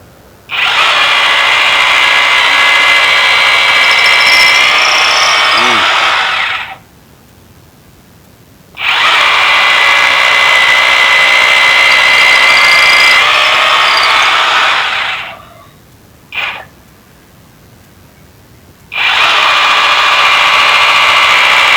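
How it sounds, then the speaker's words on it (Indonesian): A cheap cordless hammer drill bores 8 mm holes through thick wood, with three loud, steady bursts of high whining drilling cut by short pauses and one brief blip, no voices. "Tenaganya cukup kuat ya, seperti tanpa beban dia ngebor 8 mili dengan ketebalan kayu"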